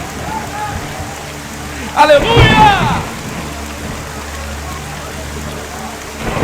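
Heavy rain falling during an outdoor church gathering, a steady loud hiss throughout, with a low rumble beneath that may be thunder. A voice briefly shouts over the downpour.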